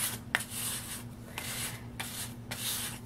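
Gesso is scraped down across a cardboard journal page in repeated rasping strokes, about five close, quiet passes over a faint background hum.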